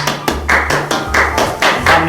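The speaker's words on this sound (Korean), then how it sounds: "여러분 선물 전달할 텐데 큰 박수와 격려 부탁드리겠습니다." A handful of people at a youth church service give a gift recipient slow, evenly spaced claps, each one a crisp, close slap in a measured rhythm.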